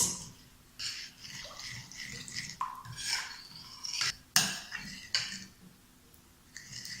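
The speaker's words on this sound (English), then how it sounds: "You stir it very well" Homemade palm oil substitute being stirred in a pot, with intermittent wet swishing strokes and a few sharp clinks of a spoon against the pot, close and fairly quiet.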